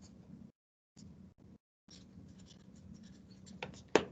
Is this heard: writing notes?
yes